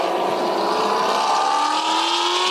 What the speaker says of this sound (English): that Camaro sounds pretty badass